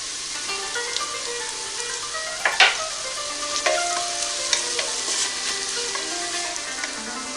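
Onion and garlic paste sizzles steadily in a hot pan as coriander powder is added for a traditional Arabian madhguth dish, with occasional spoon scrapes and stirring knocks over the continuous frying hiss.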